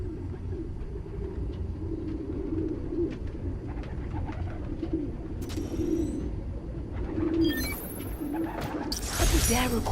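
Pigeons coo in a park, their soft, low repeated calls close by over a murmuring background, with a brief flutter and a clatter of activity near the end.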